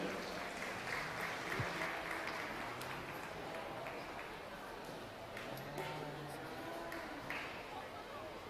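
A crowd at an evening youth fair livestock show claps steadily for a showmanship class, a sustained wash of applause that fills the whole stretch, with some voices faintly underneath.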